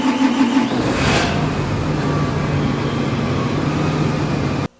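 A John Deere tractor engine running on a farm, with a steady mid-pitched hum and a rising rev near the start, close and fairly loud, ending abruptly.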